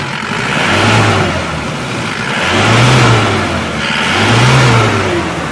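A car engine with a leaking exhaust flex pipe revs three times in slow succession, each rise swelling loudly over a rough idle, heard up close with no talk.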